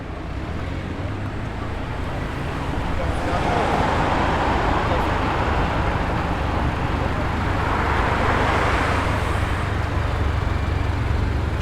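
A shiny black BMW rolls into an outdoor night car show in Sydney, its loud, steady engine and road rumble swelling and fading under constant crowd and traffic noise, with voices faintly present.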